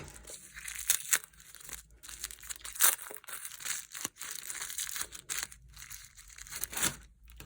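Scissors cut open a crystal delivery package, with irregular bursts of crinkling, tearing and snipping of packaging close by and no voices.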